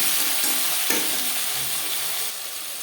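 Tomatoes dropped into hot oil with cumin seeds and bay leaf, setting off a loud, steady close sizzle with a brief splash-like burst near the start, easing slightly toward the end.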